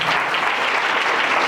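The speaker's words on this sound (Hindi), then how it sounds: "तालियों की आवाज 10 लोगों की है।" A small church congregation of around ten people claps together, a short, steady burst of close applause with no voices over it.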